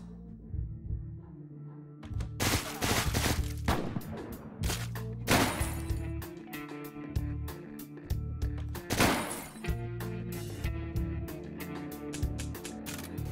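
Rapid gunfire shooting out a light in the video game Deadbolt, several sharp bursts of shots around two to three seconds and five seconds, then another cluster near nine seconds, over a steady low game soundtrack.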